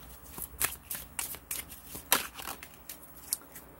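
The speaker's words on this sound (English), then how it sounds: "let's pull another card for you" Tarot cards shuffled and drawn from a deck, giving a run of crisp papery riffles and flicks that come in repeated bursts, close and fairly quiet, with no talking.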